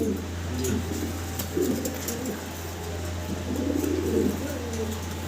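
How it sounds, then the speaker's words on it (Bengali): A pair of English Carrier pigeons coo softly and repeatedly at close range in a low, steady murmur, with a constant hum underneath and no talking. "দর্শক ভিডিও স্ক্রিনে আমরা একজোড়া ইংলিশ কেরিয়ার হোমা দেখতে পারতেছি"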